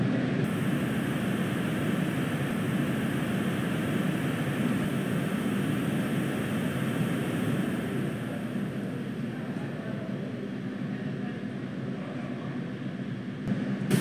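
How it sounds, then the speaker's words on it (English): A Falcon 9 first-stage rocket engine firing during its landing burn, heard as a steady, broad, distant roar with a muffled rumbling texture that holds for the whole span and eases slightly toward the end. "That the first stage has begun its landing burn."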